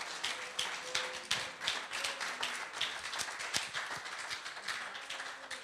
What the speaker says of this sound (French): Est-ce qu'on peut donner une bonne pleine d'applaudissements au Seigneur?